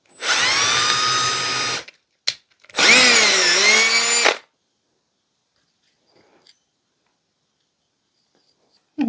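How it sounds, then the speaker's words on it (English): An electric drill whines loudly in two bursts, a long run and a short blip, then a second long run, followed by near silence with faint clicks. "I'm going to drill another hole"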